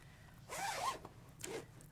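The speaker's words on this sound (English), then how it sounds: "Zip it up." A zipper is drawn closed on a fabric box cushion cover in two quick strokes, close and quiet in a still room.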